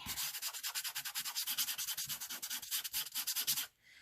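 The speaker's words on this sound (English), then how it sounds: "I'm doing what they call varnishing, which is really rubbing in this extra fine glitter into this so it really doesn't come off that much" Extra fine glitter is rubbed into a paper napkin by hand, making a quick, regular series of soft, close, scratchy back-and-forth strokes that stop just before the end.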